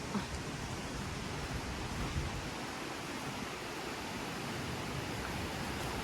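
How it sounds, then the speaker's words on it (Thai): A strongly flowing waterfall in a park pond setting with lotus flowers: a steady, dense rush of water fills the whole stretch at an even level, with no voices. "น้ำไหลแรงมาก"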